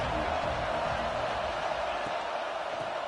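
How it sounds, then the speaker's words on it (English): Crowd noise at a college football game involving Georgia State, a dense steady roar filling the stadium with no clear peaks, loud and continuous throughout. "This crowd bringing the energy and noise early."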